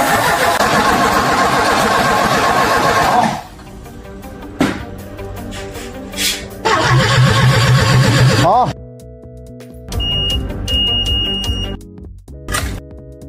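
A 1987 LADA engine cranking in bursts without catching, separated by gaps with beeps and clicks between attempts, loud and close.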